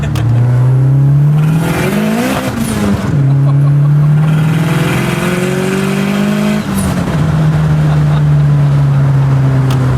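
A tuned Nissan Skyline R34 GT-R with an RB26 engine revs loudly and climbs in pitch, shifting gears twice as it accelerates hard, close and roaring throughout.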